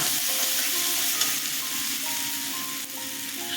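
Spice paste fries and is stirred in a pan for a gourd curry, giving a steady, close sizzle with scraping stirs throughout and no talk.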